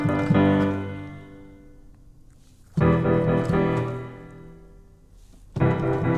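Three sustained piano chords in root position, without inversions, ring out one after another, each struck firmly and allowed to decay before the next.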